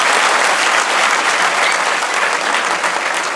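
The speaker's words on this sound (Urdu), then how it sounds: "آپ نے اپنی تعریف پہ سب سے اونچی تالی بجائی ہے" A lecture audience breaks into loud, sustained applause, a dense wash of many hands clapping together at an even level throughout, with no voices standing out.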